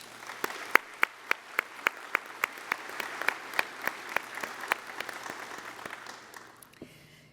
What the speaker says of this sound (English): Please give these and all employers who support our community one more round of applause